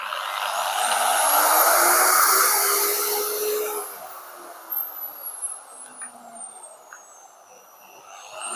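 A DCA 7-inch angle grinder with newly replaced bearings, its motor soft-starting: a whine rising smoothly to a loud, steady high-pitched roar, then winding down with a falling tone and some rattles.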